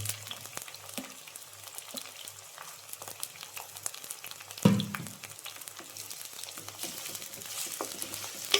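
Sliced onions, two medium ones, fry in a pan as fish mango curry is cooked, giving a steady soft sizzle with occasional stirring scrapes and one brief louder clatter midway.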